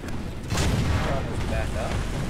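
A Churchill Mk III tank cannon in a video game firing an armor-piercing shell, one heavy boom with rumbling tail, with someone speaking over the battle sounds.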